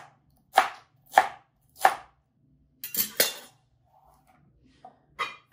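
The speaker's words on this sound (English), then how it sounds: "run your knife 2 times down your celery and then chop them up" Knife chopping celery on a cutting board: three evenly spaced sharp chops, then a quick double chop, a pause with faint clinks, and one last chop, crisp and close in a quiet room.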